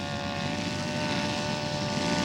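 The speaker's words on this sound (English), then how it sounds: "I think this is going to be Joe's touch and go" Propeller engine of a team scale model airplane drones steadily at an air show during a touch and go, a continuous buzzing hum at moderate distance with no talking.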